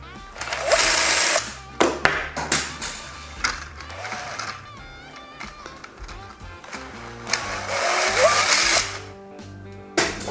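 A hand drill spinning a fully 3D-printed toy helicopter, loud whirring bursts that rise and cut off repeatedly, with rattling mechanical clatter between spins.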